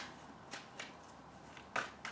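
A tarot deck being shuffled by hand, a few quick soft riffles and card slaps spread out in a quiet room, faint and close with no talking.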